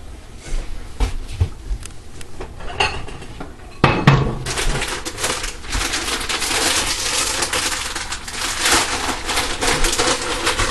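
Bowls and dishes clatter as one is taken down from a kitchen cupboard while nachos are made, a busy run of close knocks, scrapes and ceramic clinks with a sharper clack partway through.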